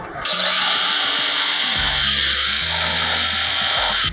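A power tool cuts through a wooden beam for a flat-roof shelter gutter, a loud continuous high whine starting abruptly and running steadily for about four seconds close by, with faint music underneath.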